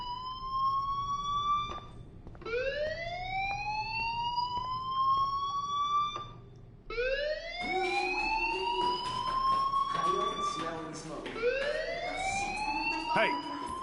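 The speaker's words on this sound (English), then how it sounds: "do you hear that fire alarm? That means you should be outside." A fire alarm in the Life is Strange video game wails in rising sweeps, repeating steadily and loudly across the whole stretch, with game voices and other sounds mixing in under it toward the end.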